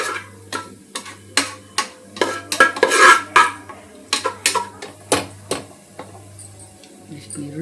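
A utensil scrapes and clinks against a pan while onions are stirred as they fry, sharp irregular taps and scrapes close by, with a low hum underneath.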